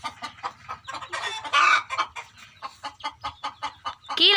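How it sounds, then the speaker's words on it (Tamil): A hen squawks and clucks nearby in a repeated, rhythmic string of short calls, with a louder agitated squawk burst in the middle and another near the end. "இந்த கோழி ஒரு பக்கம் வர கத்துது"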